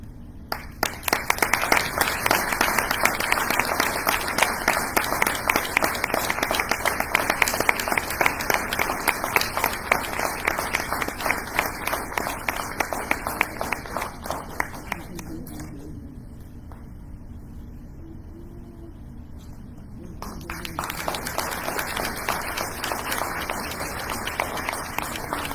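Sustained room applause for departing board members at a quarterly community meeting, loud dense clapping that fades to near quiet for a few seconds, then picks back up more softly.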